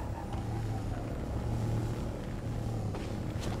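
Summoned bike engine in the video game Destiny, a steady low motor hum that holds on without a break, close and even in level.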